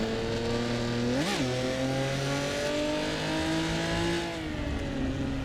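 A race car with a 5-speed manual gearbox in Assetto Corsa EVO holds a steady high engine drone, with a quick rev blip around one second and a slight drop in pitch near the end.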